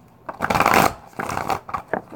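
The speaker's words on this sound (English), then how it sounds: "That's why it takes me to shuffle so damn long sometimes." Cards are shuffled in several quick riffling bursts, close and crisp, with brief pauses between them.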